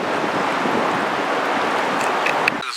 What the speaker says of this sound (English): This wind is so wicked